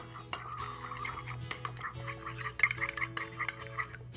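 A utensil stirs yogurt curry sauce in a bowl, making soft repeated scraping and clinking close by over a low steady hum.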